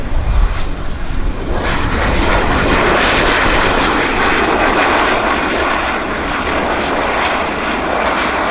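A heavy airliner on approach at Vancouver airport, its loud, continuous broadband engine roar filling the scene close by and holding steady throughout.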